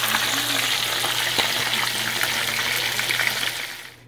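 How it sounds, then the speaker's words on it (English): Fish fries in hot oil with a dense, steady sizzle and crackle that holds close and loud before tapering off at the end. "we have the rest of it frying right there"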